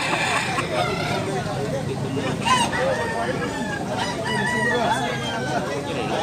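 A rooster crows several times amid clucking chickens nearby, with people talking in the background.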